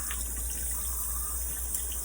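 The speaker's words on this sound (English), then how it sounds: "I'll just rinse these good, give them a quick rinse" Running tap water pours steadily over elderberries in a fine-mesh sieve colander, making a constant close hiss and splash without pause and with no voices.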